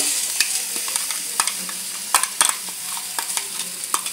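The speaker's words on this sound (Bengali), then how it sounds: "এবার এই পোস্তটা দিয়ে পুরো নাড়া নাড়া হবে, ভাজা ভাজা তরকারিটা করবো।" Fried potatoes with poppy seed paste are stirred in a pan, giving soft scraping sizzles with scattered clicks of the spoon against the pan, steady and close, with no talk.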